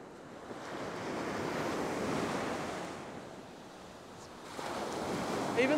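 Small ocean waves wash onto a beach with a strong current running along the shore, a soft surging roar that swells and eases, mixed with gusty wind buffeting the microphone.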